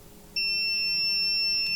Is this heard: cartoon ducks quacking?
no